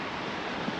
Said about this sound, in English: there's some really quite big waves coming in